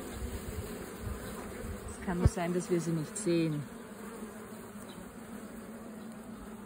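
Honeybees buzz in a dense steady drone inside an open beehive while a beekeeper searches for the queen, with a voice talking over the middle stretch.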